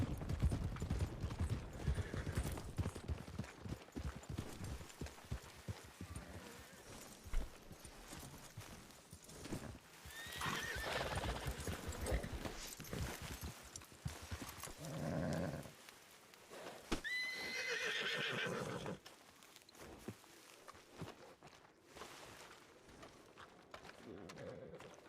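Horse neighs and whinnies amid clip-clopping hooves while the horse is hitched in a Western roleplay video game, with loud whinny bursts over ongoing hoof sounds and a voice talking at times.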